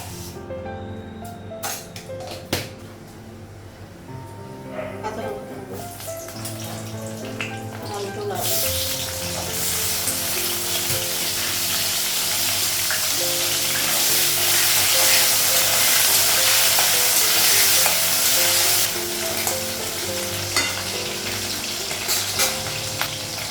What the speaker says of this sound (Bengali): কপিটা একটু ভেজে নেবো